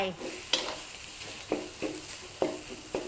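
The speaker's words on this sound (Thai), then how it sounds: "ทีนี้เราก็จะผัด หมูสับกับพริกแกงค่ะ" Minced pork and red curry paste stir-fried over medium heat in a pan: a steady sizzle broken by about five sharp scraping stirs of a spatula, close and fairly loud, with no talking.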